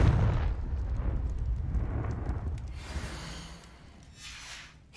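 A Confringo blasting spell explodes in the Hogwarts Legacy video game, a loud rumbling blast with a crackling burst that fades into low reverberating debris noise.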